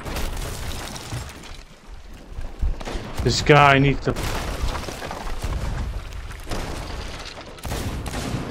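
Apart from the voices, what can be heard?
cannon fire explosions in Sea of Thieves video game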